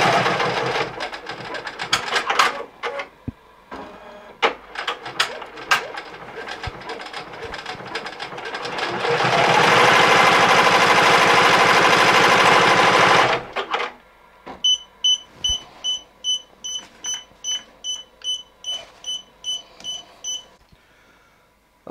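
A Ricoma EM1010 embroidery machine stitching a logo onto a beanie, with a steady mechanical whir swelling loud before giving way to a rhythmic run of pulsing stitch sounds laced with small repeating beeps.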